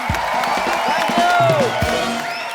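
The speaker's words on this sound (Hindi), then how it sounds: "एक बार मिस्टर अर्शद वारसी और मरिया के लिए जोरदार तालियां।" A television studio audience claps and cheers loudly at a comedy show, with whoops and whistles rising over the continuous applause.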